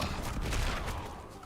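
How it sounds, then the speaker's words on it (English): Molten Bomb spell from the Warlock class in Diablo 4: Lord of Hatred, a dense burst of rumbling, crackling explosions rolling together in a continuous barrage, loud and close with no talk over it. "We're going to try Molten Bomb now"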